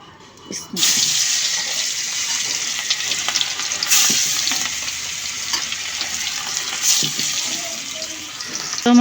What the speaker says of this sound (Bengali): তো আমি মাছগুলো আর আলুগুলো ভাইজে নেই